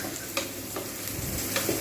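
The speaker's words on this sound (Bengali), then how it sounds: "তার জন্য আমাকে নেড়ে যেতে হবে যতক্ষণ পর্যন্ত না লালচে হয়ে ভাজা হচ্ছে" Sliced onions frying in oil for egg korma, a close, steady sizzle with a few soft scrapes of stirring over under two seconds, no voices.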